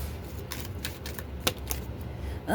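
Pages of a book riffled quickly in a few short papery bursts, the flips fairly faint and close with one sharper snap near the middle.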